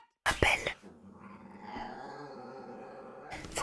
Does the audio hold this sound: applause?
no